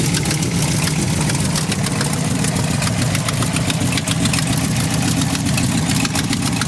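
The engine of a 1964 Ford F100 truck runs at a steady idle, a loud, close, rough rumble with a light rhythmic knock and no talking over it.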